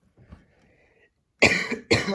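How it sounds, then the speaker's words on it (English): A faint low noise, then two sharp, close coughs in quick succession. "I'm sorry for coughing."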